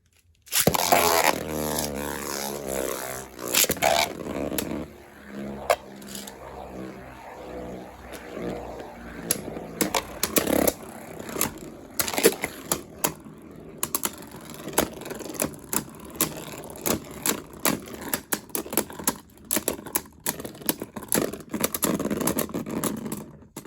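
Beyblade spinning tops clash and scrape inside a plastic stadium, a long run of sharp clicks and grinding rattles with steady whirring, loud and close, no talking.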